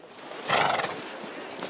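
Many horses gathered together on a beach, with a loud whinny rising over a steady outdoor background and faint hoof clops.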